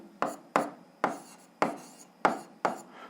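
Pen marks on paper while a physics formula for the Archimedes force is written out: six quick scratchy strokes in an even rhythm, close and fairly quiet, with no talking.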